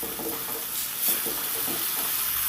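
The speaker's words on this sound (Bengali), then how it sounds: "চিনিটা দিয়ে ভালো করে একটু নেড়ে চেড়ে দেবো" Okra frying in a pan with a little sugar added, stirred steadily: a continuous close sizzle with soft scraping strokes of a spatula, no voices.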